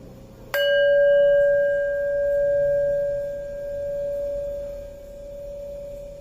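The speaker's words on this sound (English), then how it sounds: "Listen to the bell sound. Listen to its diminishing sound, and finally listen to the silence." A single bell struck once, ringing out as a clear pure tone that slowly fades over several seconds toward silence, heard alone in a quiet setting.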